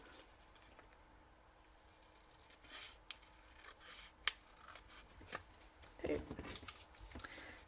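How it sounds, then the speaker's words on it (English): Scissors snip around a paper craft card with straight-line edges, a series of soft, close cuts and paper rustles at a quiet level, with faint talking in the background. "these are quite easy to cut around because it's all straight lines"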